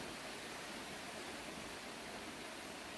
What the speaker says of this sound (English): And the rain is pretty heavy, and the wind is blowing.